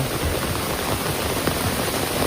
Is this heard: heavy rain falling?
yes